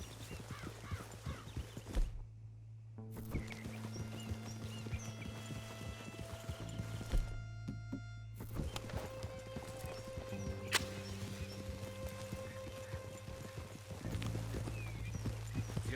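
Horse hooves gallop steadily in the video game Red Dead Redemption 2, a continuous clip-clop over ambient game sound and a low hum. A whinny and brief gaps appear along the way.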